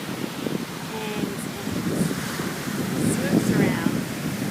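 Strong, steady wind rushes and buffets along a seashore with surf beneath it, a constant roar that swells slightly toward the end; faint distant bird calls come and go.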